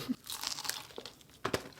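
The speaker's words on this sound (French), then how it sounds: "Ça croustille tellement gros." Close crunching bites into crispy fried chicken from a Nantes shop, with a crackling crunch at the start and another sharp bite-crunch burst near the end.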